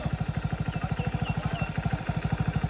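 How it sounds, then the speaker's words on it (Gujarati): A motorcycle engine idles close by, its rapid, even chugging pulses repeating steadily without a break. "બાઇક તો બંધ કરો અવાજ"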